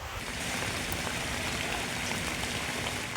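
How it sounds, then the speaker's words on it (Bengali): Continuous rain falls over Noakhali town, heard as a steady, dense hiss of drops that stays even and fairly loud throughout, with no voices. "নোয়াখালীতে সোমবার রাত থেকে টানা বৃষ্টি হয়"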